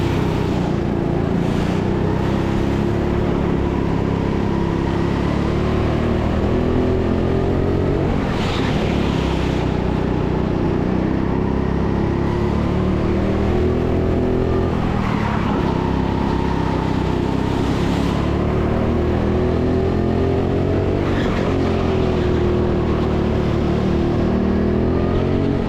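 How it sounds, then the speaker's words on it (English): Go-karts race on the TeamSport Sheffield track, a loud, continuous engine drone close by that rises and falls as the kart speeds up and eases off through turns, with other karts mixed in and no talking. "We've got a few more karts coming up, starting with number 9."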